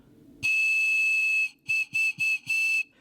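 A handmade ceramic water whistle blown with a slightly breathy tone. One long, steady high note is followed by four shorter toots in a row, all loud and close, with no voices.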